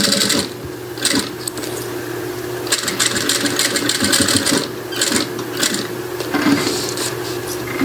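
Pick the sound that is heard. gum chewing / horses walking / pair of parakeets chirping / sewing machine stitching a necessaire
sewing machine stitching a necessaire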